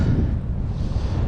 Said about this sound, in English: Alright, so we are getting wind